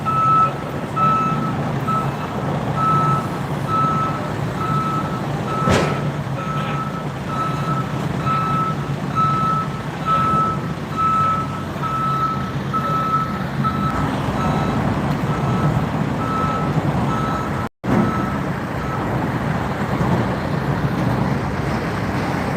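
A military truck backs up during a Texas National Guard and police operation in Austin, its reversing alarm beeping steadily and evenly for over twenty seconds over a constant rumble of engine and roadway noise.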